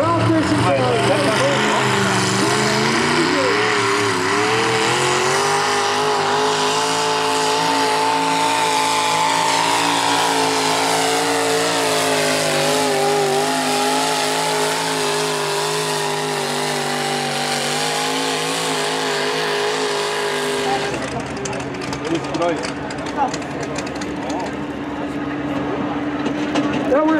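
Eight-injector alcohol-fed engine in a 4WD truck pulling at a county fair, a loud sustained roar with shifting harmonic pitch for about twenty seconds, then cutting to a rougher idle with crowd noise.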